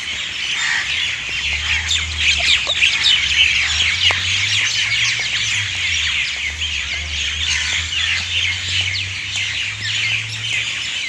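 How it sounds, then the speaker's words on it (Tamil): On a morning walk, a dense chorus of birds squawks and chirps continuously in a tree near an entrance, loud and busy, over a low rumble in the background. "இன்னைக்கு வந்து பறவைகள் இருக்குது நேற்று பறவையே இல்லை இன்னைக்கு பறவை"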